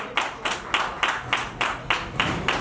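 An audience at a 25th wedding anniversary celebration claps in a slow, even rhythm of about eight sharp, close claps, each distinct and evenly spaced.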